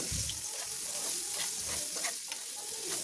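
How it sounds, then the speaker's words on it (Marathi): Chopped raw mango is stirred into a hot cumin-mustard tempering in a pan for pickle, producing a bright, steady sizzle broken by soft scraping strokes of the spoon, with no one talking. "तर आता चिरून ठेवलेली कैरी मी यामध्ये घातली आहे आणि कैरी ही या तडक्यासोबत चांगली मिक्स करून घ्यायची आहे"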